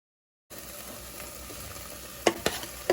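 Fresh mushrooms go into a hot oiled pan: a steady frying hiss runs throughout, broken by a few sharp clacks and sputters near the end as the pieces drop in.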